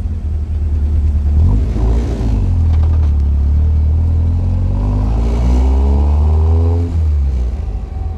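A car engine fitted with individual throttle bodies revs loud and close, climbing to a screaming pitch, easing back and then rising again before it drops off.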